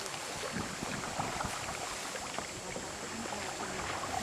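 Kayak paddle sweep stroke turning the boat, water swishing and sloshing close by, soft and continuous under light wind, no talking.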